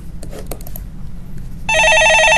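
A telephone starts ringing partway through on a Korean phone-in stock market call show, a loud, steady electronic ring with layered tones that follows a stretch of quiet background.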